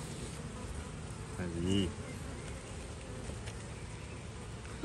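Honeybees buzz around a garden apiary hive, a faint, continuous hum with one bee passing close and briefly louder near the middle, and a voice speaks quickly in the clip.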